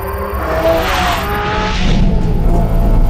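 A Porsche 718 Cayman GT4 RS driving hard on a race track gives a loud, close engine roar that rises and shifts, with tire squeal mixed in.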